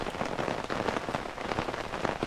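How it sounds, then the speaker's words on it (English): Heavy rain pours steadily onto a backcountry campsite, a dense, constant hiss of drops hitting surfaces with no letup and no voices. "Oh yeah, it's still raining."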